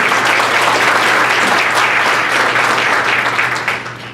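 A luncheon audience in a hall applauds sponsors with loud, dense clapping over a low steady hum, tapering off toward the end.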